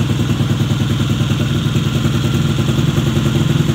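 A Honda ADV150 scooter with a 66 mm bore, 2.5 mm stroker engine and modified exhaust idles roughly with a loud, throbbing exhaust, steady and close, with a faint rattling clatter.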